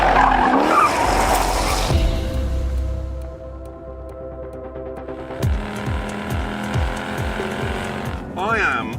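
Tires on a Jaguar XE Project 8 sports saloon squeal and skid through a fast corner, then the engine roars with rapid gear shifts and revving, close and loud.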